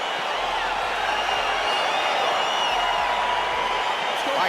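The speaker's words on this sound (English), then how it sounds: "crowd getting excited as this fight gets underway" In the UFC 4 video game, the arena crowd at a UFC fight sends up a steady, dense roar of cheering that stays even throughout, with no distinct voices on top.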